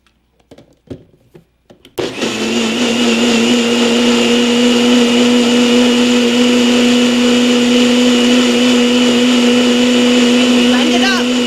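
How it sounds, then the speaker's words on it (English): A NutriBullet blender whirs loudly and steadily as it purees soaked sea moss, starting abruptly after a few seconds of faint handling clatter and running as a constant high motor drone. "you put it in the blender, or in this case, I'm using a NutriBullet"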